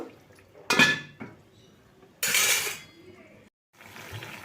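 A metal lid set onto a cooking pan holding a drumstick (sajne data) vegetable dish, giving two sharp clattering clinks close by followed by quieter rattles and a soft clatter.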